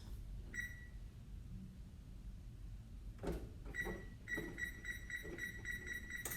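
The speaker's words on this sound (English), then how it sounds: "I'm going to put a timer for 35 minutes." A few button presses on a kitchen timer followed by a steady series of high electronic beeps, repeating evenly near the end, quiet and without talk.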